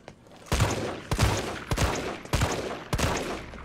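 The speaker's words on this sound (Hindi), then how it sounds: "इतनी गोलियां वेस्ट कर दी मैंने यहीं पे" Gunfire from the Resident Evil 3 Remake video game during a sewer boss fight against Nemesis: five loud, sharp shots spaced roughly half a second apart, each followed by a short rumbling tail.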